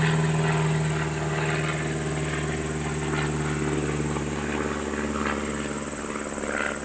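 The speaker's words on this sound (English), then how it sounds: "Got a little plane going over." A small plane passes overhead in rural Appalachia, a steady droning engine hum that holds throughout at moderate loudness with no speech.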